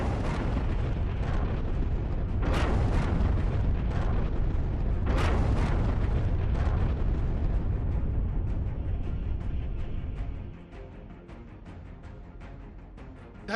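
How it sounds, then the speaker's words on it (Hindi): Dhanush 155 mm artillery guns firing during the Bharat Shakti exercise at Pokhran, with several sharp booming blasts rolling into heavy sustained rumble before dropping to a quieter echoing tail. "अब आपके सामने धनुष तोप है, जो पहाड़ से रेगिस्तान तक आग बरसा सकती है।"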